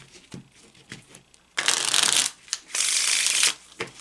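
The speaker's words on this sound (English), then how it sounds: "you shuffle the cards in whatever way works for you" Soft handling noises, then two loud bursts of playing cards being shuffled, each lasting about a second and a half, close to the listener.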